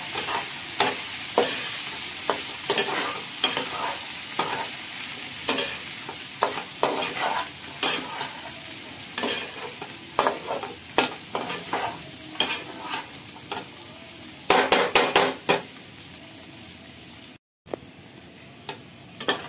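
A spoon scrapes and stirs a sago mixture seasoned with coriander powder, turmeric, cumin and salt in a pan, tapping in steady repeated strokes over a faint sizzle, with a brief cutout near the end.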